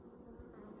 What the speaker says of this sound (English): Well, we seem to have bees moved in here.